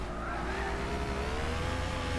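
Cizeta V16 T racing in Gran Turismo 6, a loud, steady engine drone with rising pitch as it accelerates, overlaid by continuous tire squeal and skidding noise, no talk.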